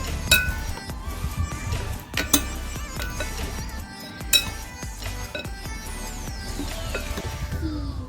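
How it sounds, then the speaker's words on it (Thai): Continuous clinking and scraping of a utensil against a bowl, with a few louder knocks, as a flour mixture is stirred close by. "แล้วก็ใส่แป้ง ก็คนให้เข้ากันนะคะ"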